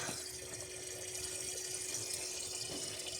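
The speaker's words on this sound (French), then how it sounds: "Et on fait avec une pompe pour remplir les bidons qu'on met dans l'eau." A pump runs steadily, filling 25-litre water canisters, giving a continuous rushing, splashing flow of water with a faint steady hum underneath, close by and uninterrupted with no voices.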